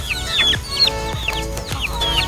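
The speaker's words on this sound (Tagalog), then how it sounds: "Ito po ay mga" Several free-range native chickens cluck and peep in quick, overlapping bursts, close by, with a low rumble underneath.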